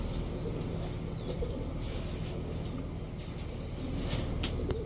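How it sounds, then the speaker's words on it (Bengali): Pigeons at a bird seller's stall coo softly and repeatedly amid a dense low background rumble and some chirping, the cooing faint and blended into the ambient noise. "দেখেন এই হচ্ছে কবুতর।"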